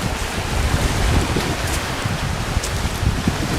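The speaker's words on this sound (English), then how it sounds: "you can see how windy it still is" Gusty wind at Weyakwin Lake roars across an open microphone in a steady, rumbling rush, rising and falling slightly but never letting up.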